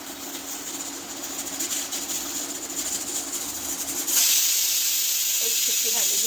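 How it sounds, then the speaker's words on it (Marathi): Pressure cooker on the stove cooking masoor rice, releasing a steady loud hiss of escaping steam that swells sharply partway through and holds as a bright continuous rush. "एक शिट्टी झालेली आहे कुकरची"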